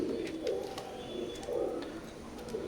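Oman bloodline teddy pigeons coo in a loft, soft throaty rolling coos repeating in a slow rhythm close by, with faint chirps in the background.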